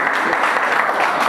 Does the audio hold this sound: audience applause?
yes